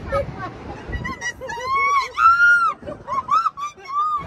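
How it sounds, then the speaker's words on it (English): A woman screams loudly and repeatedly in rising, harmonic bursts amid a noisy outdoor crowd at Galaxy's Edge in Disneyland, with people chattering around her. "I didn't mean to scream that loud, guys."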